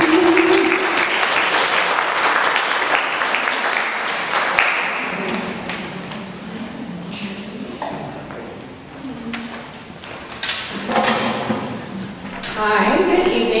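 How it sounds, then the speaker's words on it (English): Audience applause at a women's empowerment summit in Mattoon, Illinois welcomes a couple to the stage, a loud sustained crowd clapping that thins into scattered claps with voices mixed in. "we'll go ahead and warm them up with some applause and welcome them to the stage"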